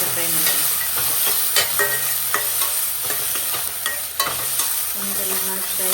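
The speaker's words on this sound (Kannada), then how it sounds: "ಟೊಮೆಟೊ ಹಾಕಿ ಫ್ರೈ ಮಾಡಿ" Tomato frying and sizzling in a pan, with a steady bright hiss under repeated spoon or spatula scrapes and clinks, close up, no talking.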